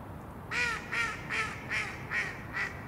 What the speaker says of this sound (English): Okay, that's a goose.